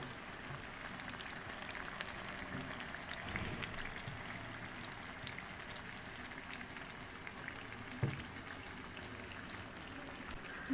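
Dahi bara lentil dumplings fry gently in oil over a low flame with a soft, continuous crackling sizzle, quiet and even, with one faint bump partway through.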